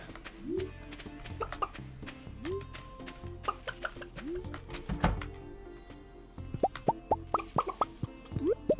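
Chickens in the Stardew Valley farming game cluck in short repeated bursts over a busy mix of soft plopping game effects, moderately loud with no talking.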